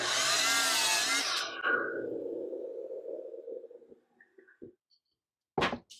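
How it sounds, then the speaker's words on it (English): A miter saw cutting wood in a workshop, a sharp whining blade bite that winds down into a fading hum, followed by a few light knocks and a brief clatter. "And the miter saw is still set to 16 inches from yesterday."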